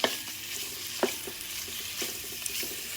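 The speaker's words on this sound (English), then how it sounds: "Now we're going to add in our andouille sausage. Hear that sizzle?" Andouille sausage sizzling in a hot pot for Cajun dirty rice, a steady crackling hiss with a few sharp stirring clicks scattered through.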